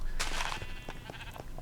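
Sheep in a Minecraft sheep farm bleat several times in quick succession, a loud nasal call up front followed by shorter, fainter bleats.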